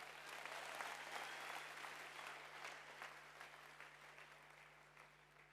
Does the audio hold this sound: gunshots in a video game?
no